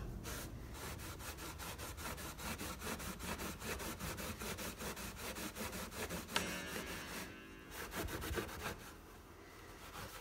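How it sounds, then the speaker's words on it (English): A cloth buffs surplus polish off an antique wooden clock case in quick, rhythmic rubbing strokes, close and continuous, easing off briefly before the strokes carry on more softly. "you then just simply buff the surplus off"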